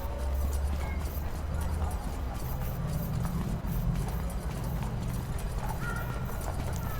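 Horse hooves clip-clop steadily in Bannerlord as a horse is ridden through a fortified area. The dense, continuous stepping rhythm is loud and close, with some background game ambience and no clear talk over it.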